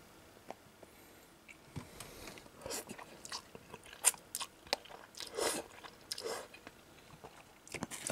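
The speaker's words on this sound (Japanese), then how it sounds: "スパゲティも食べてみますか。" Someone eats Napolitan spaghetti from a Lawson convenience store bento, with soft, irregular chewing and biting sounds up close, quiet overall, and occasional sharper crunchy clicks.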